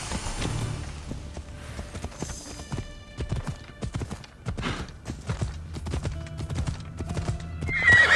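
Rhythmic hoofbeats of a galloping horse with repeated whinnies in Assassin's Creed Odyssey, game-like and busy, with scattered clicks and effects layered over the run.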